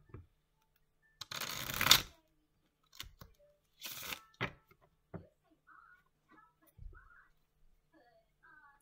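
Tarot cards being shuffled and drawn, a loud riffling burst followed by several shorter shuffles and soft card slaps, close and alone in a quiet room.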